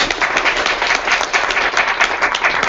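Round of applause from an audience at a business meeting, steady dense clapping throughout, fairly loud and continuous with no break.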